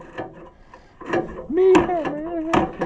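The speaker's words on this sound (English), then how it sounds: "Meat hammer. It works." A few sharp metallic strikes from a meat hammer on metal parts of an Oliver 70 tractor, spaced irregularly, with a ringing, squeaky tone lingering between the louder later blows.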